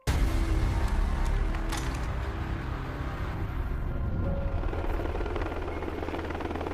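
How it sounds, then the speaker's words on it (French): Special operations Black Hawk and Chinook helicopters flying at night from Jalalabad airfield, a steady loud rotor and engine drone that stays constant throughout with no voices. "Les hélicoptères du 160e régiment des opérations spéciales quittent la base aérienne de Jalalabad à 22 h."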